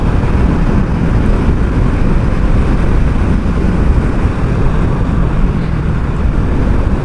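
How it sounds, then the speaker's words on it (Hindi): Bajaj Pulsar NS200 motorcycle exhaust giving a steady, loud, growling rumble throughout, a dense continuous engine roar with no voices heard. "इसका एग्जॉस्ट मुझे बहुत पसंद है, एकदम गुर्राती है बाइक।"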